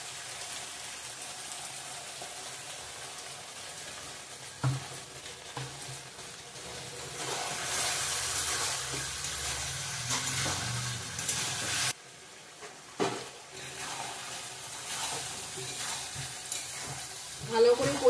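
Chicken and potatoes fry and get stirred in a pan, with a steady broadband sizzle throughout, scraping stir strokes every few seconds and a brief drop in level partway through.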